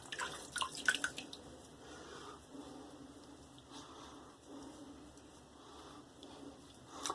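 A Merkur Futur or Q-Shave razor is rinsed under running water, giving a faint, steady trickle and splash with a few sharper drips near the start.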